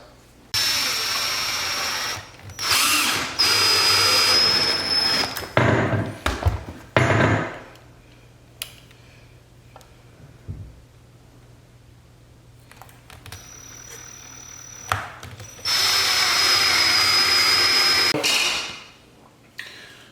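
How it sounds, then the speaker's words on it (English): A power drill bores holes to mount a mirror in a posing room, with two loud whining runs and short bursts between them, plus knocks and handling noise in the quieter gaps. "and she'll drill it"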